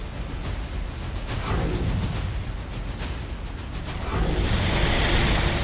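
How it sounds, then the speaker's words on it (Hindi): Roaring, rushing water from a river in flood after heavy rain, a loud, continuous wash with wind buffeting the microphone and no voices. "बारिश के चलते पूर्णा नदी उफान पर है और शहर तालाब बन चुका है।"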